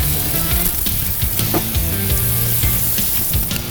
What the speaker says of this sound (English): We'll cook it with the skin side down.